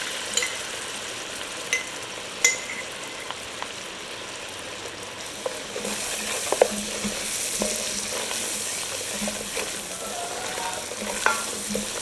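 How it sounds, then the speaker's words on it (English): A roux for oyster chowder being stirred in a pot, with a steady sizzle and scraping spoon strokes throughout and the frying growing louder and denser partway through, no voices. "So we pretty much making like a roux, y'all, because we want it to be a little thick"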